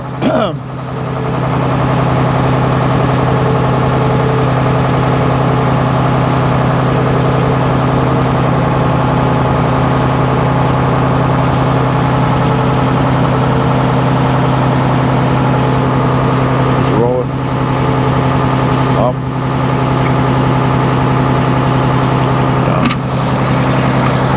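A log loader's diesel engine runs steadily at a sawmill where black cherry logs are loaded and sawn. The loud, constant low rumble has a strong hum and brief dips and surges, and speech can be heard over it.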